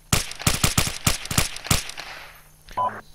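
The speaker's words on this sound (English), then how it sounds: "Count it down if you want. Okay, I'll count it down. 1, 2, 3, fire." Rapid burst of about eight sharp gunshots in a video game shootout on two enemies after a countdown, loud and close, followed by a quieter tail and a brief faint tone at the end.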